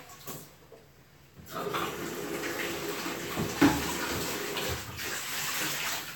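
Water runs over an aquarium sump filter pad from a 125-gallon tank as it is rinsed, starting after a quiet moment and continuing as a steady close splashing rush with a few small knocks.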